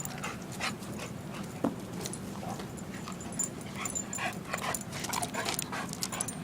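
Guide dogs at play pant steadily, with occasional whimpers and yips mixed into a continuous close, busy scuffle.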